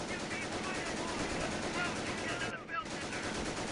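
Machine-gun fire in the Company of Heroes strategy game: dense, continuous rapid bursts and battlefield gunfire rattle nonstop, with a brief dip near the end.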